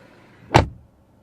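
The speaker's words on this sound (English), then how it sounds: "So you have very premium sound when you close the doors." A 2022 Mercedes C300 door shuts once with a single solid, deep thud, close and clear, in a quiet setting with no talking.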